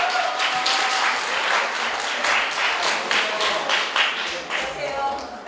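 An audience at a high school admissions information session claps together in a steady, dense burst of applause that holds for several seconds at moderate loudness.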